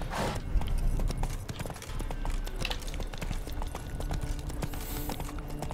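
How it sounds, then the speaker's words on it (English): A horse's hooves clip-clop at a walking pace in the video game The Witcher 3, a steady, close, rhythmic run of hard taps on the ground that continues throughout with no talking. "Ah, come on, horse."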